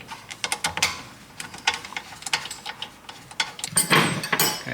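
A ratchet tightens new Brembo brake caliper bolts on a 2021 VW T-Cross rear brake, making bursts of quick, close mechanical clicks with short pauses between strokes and a louder run near the end.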